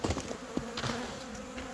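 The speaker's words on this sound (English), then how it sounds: "There's a lot of bees in there." A dense swarm of honeybees drones inside an open hive whose colony has begun building comb on the floor of the base. The buzzing is close, loud and continuous over a brief moment, with no voices.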